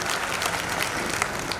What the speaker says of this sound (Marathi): या जोरदार टाळ्या वाजवून त्यांचं मनोबल वाढवूया